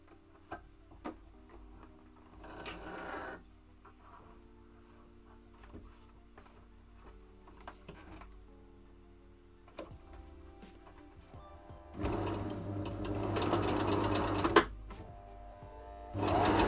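A sewing machine stitching shorts, running in short quiet bursts of rapid ticking and whirring separated by pauses, then a longer, louder run near the end.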